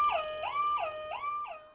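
An alarm sound effect wails in a rising and falling siren pattern, about four sweeps in quick succession, loud and alone before fading out.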